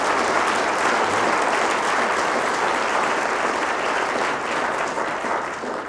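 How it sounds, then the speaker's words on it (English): A church congregation claps at an evening Christmas service, sustained, even applause filling the room at a moderate level for the full six seconds, with no voices over it. "Let's all give them a huge round of applause this evening."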